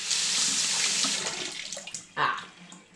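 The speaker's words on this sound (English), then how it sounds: "always wash your fruit and vegetables before eating it" A kitchen tap runs steadily as oranges are rinsed beneath it, with a continuous close splashing hiss. Toward the end the stream breaks into a few wet splashes and a brief louder gush.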